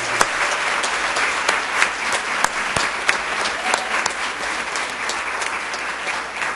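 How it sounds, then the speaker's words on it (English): A school board meeting audience applauds students with steady, full crowd clapping that continues evenly throughout, with a few sharper claps standing out. "Let's give our students a round of applause."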